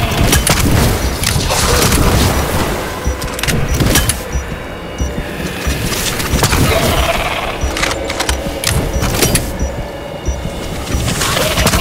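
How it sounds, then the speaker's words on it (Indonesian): Bomb explosions and gunfire from the video game Scars Above: a dense, loud stretch of booms, crashes and sharp impacts that keeps going without a break, with no talking. "Suara bom itu."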